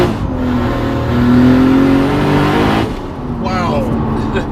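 A 720 bhp Toyota Supra with a 2JZ engine pulls hard in third gear with the wheels spinning, a loud, steady engine roar rising in pitch, then a brief lift and a softer pull at the close.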